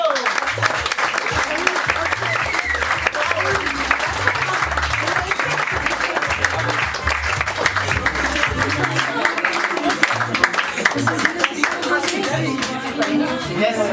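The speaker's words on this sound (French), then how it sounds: "un tonnerre d'applaudissements pour Bruno Carrillo" Applause from a comedy-show audience greeting the stand-up comedian Bruno Carrillo: dense, sustained clapping that stays loud and steady for the whole stretch, with a faint murmur of voices mixed into the crowd noise.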